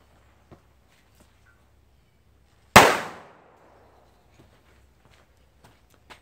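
A single loud homemade firecracker bang cracks sharply and echoes away quickly, with near silence and a few faint ticks before and after.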